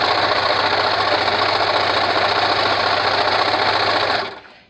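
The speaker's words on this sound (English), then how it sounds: "Then I stitch across the bottom" Sewing machine stitching across the bottom of a fabric face mask, a steady close whir running loud and continuous for about four seconds before stopping abruptly.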